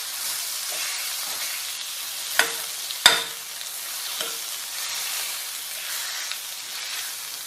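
Mashed sweet potato sautés in a pan, a continuous close sizzle and hiss with a couple of sharp clinks from stirring partway through, no voices.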